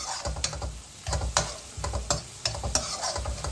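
Baingan bharta mash fries in a pan with a steady sizzle. A utensil makes repeated close stirring scrapes and knocks at an uneven rhythm.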